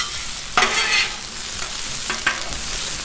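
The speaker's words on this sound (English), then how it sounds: "I love the sound of that sizzle." Onions and vegetables for shrimp fajitas sizzle steadily on a Blackstone griddle, a continuous hiss broken by a few sharp bursts where food is stirred or scraped, with no talking.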